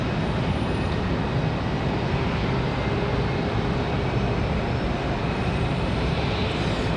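An American Airlines Boeing 737 jet takes off from runway 23 at Raleigh-Durham International on a windy day, a steady, broad roar of engines and wind that holds level throughout without any voices.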